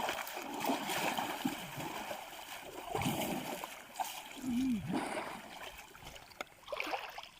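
Two elephants bathe in water, including the female Phang Nam Wan, with steady sloshing and splashing throughout, several heavier splashes standing out, and voices faintly in the background.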